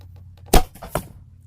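An arrow loosed from a bow during archery practice, a sharp thump on release followed a moment later by a second impact as it strikes the target, both brief and close in a quiet setting.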